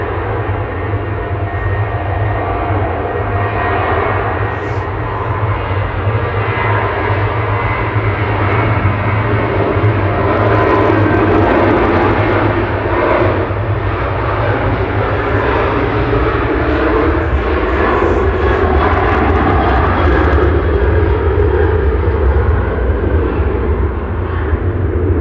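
Planes on the runway at Manchester Airport make a loud, sustained jet-engine roar with a low rumble and shifting whine that swells gradually, heard from nearby for the whole stretch with no talking.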